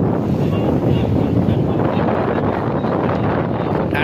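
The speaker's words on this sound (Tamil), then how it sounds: "நல்ல காத்து வந்து எக்கோ அடிச்சுக்கிட்டே இருக்கு." Strong sea wind buffets the microphone on a small fishing boat at sea, a loud, steady roaring rumble with no break, alone.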